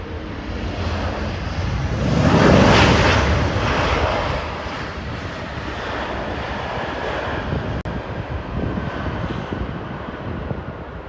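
An Aer Lingus Airbus A320 airliner passes at Heathrow, its engine roar swelling to a loud peak then fading into a broad steady rumble, with wind buffeting the microphone.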